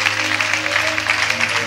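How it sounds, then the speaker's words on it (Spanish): Congregation clapping steadily in church during a youth fellowship service, a dense, even patter of many hands sustained throughout with a low organ-like tone underneath. "Dale un aplauso al Señor con todo su corazón"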